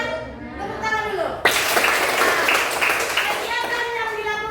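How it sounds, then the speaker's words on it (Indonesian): Students in a classroom break into applause after a teacher's voice, a dense burst of many hands clapping that starts abruptly and carries on for about two seconds before talking resumes. "Tepuk tangan dulu."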